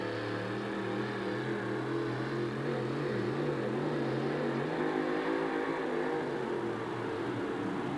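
A monster truck powered by two 1,500 horsepower engines roars steadily at a distance, its low rumble sustained and slightly wavering in pitch over the whole stretch, with a noisy arena-like background.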